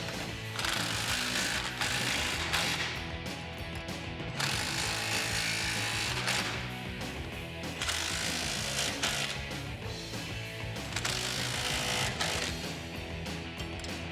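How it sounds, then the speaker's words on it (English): A 19mm socket wrench ratchets steadily while tightening steering stabilizer bolts on a 1987-1995 Jeep Wrangler YJ, rapid clicking in repeated bursts separated by brief pauses, close and clear with no talk. "we're going to take a 19mm socket, 19mm wrench, and we're going to tighten all these up"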